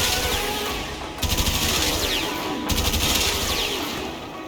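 Rapid bursts of electric Galvanized Fulmin gunfire in a video game, two loud rattling volleys separated by brief pauses, crackling and dense over a steady background hum.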